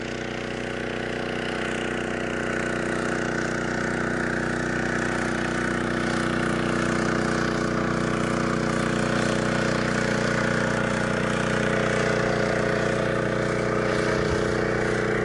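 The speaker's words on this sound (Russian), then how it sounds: "Где-то там моторка плывет." A motorboat engine on a river holds a steady, even droning hum for the whole stretch, with no breaks or clear changes in pitch.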